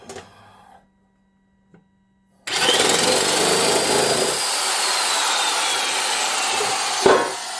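Makita 10-gauge heavy-duty sheet metal shears cut through stainless steel: after a quiet pause the motor whirs up into a loud, continuous grinding, rasping cut lasting several seconds and ending with a short clunk, close by.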